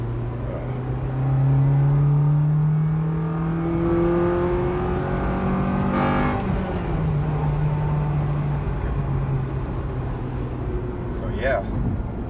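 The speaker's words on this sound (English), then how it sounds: "I'm just trying to test out the VTEC action here." An Acura RSX Type-S with an aftermarket air filter revs while driving, its engine note climbing steadily, then dropping at a shift before pulling again. Heard from inside the car.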